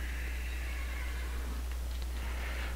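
A horse in the Minecraft video game whinnies once, a drawn-out neigh over a steady low hum, with no talking.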